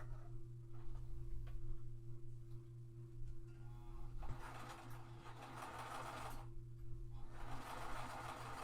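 A sewing machine stitches a seam on clear vinyl for a wristlet bag, giving a steady mechanical whir that runs faint and close, with louder rapid stitching bursts in the second half.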